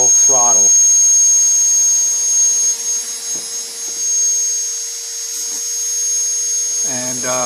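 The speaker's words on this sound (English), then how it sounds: "As you can see, one motor is just running and the other three just dropped." A single quadcopter motor running at full throttle while the other three stay stopped, giving a steady high-pitched electric whine throughout, with someone talking briefly at the start and end.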